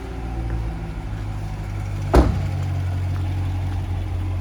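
A 2014 Corvette Stingray coupe engine idles with a deep, steady burble close by, interrupted once by a short sharp click or knock midway.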